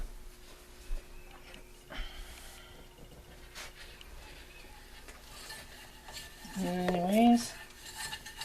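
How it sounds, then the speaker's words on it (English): A utensil scrapes and stirs a flour roux paste in a pan for turkey pot pie, with quiet rubbing and occasional taps and a brief spoken word near the end. "when I make a roux, I just put enough flour in there to make a paste"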